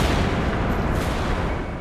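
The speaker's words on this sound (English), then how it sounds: "Another explosion." Explosion in the stealth video game Thief, a loud, dense rumbling roar that fills the whole moment, continuous and close with no voices.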